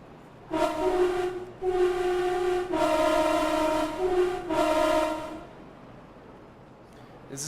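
A train in Train Sim World 3 with modded sounds gives a series of loud, tonal horn blasts, four or five bursts of varying length close together, before fading to quiet rumble.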